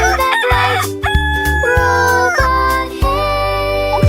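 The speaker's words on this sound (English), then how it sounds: "The rooster crowed with pure delight." Rooster crowing within a nursery rhyme song, several loud close crows and clucks in quick succession over a bright musical backing, with strong harmonic calls starting and stopping roughly every half second.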